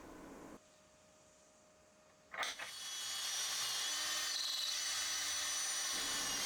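A power drill bores holes in wood for French cleats, starting with a sharp bite and then settling into a steady, continuous whir that runs for several seconds before cutting off, heard close with no talking.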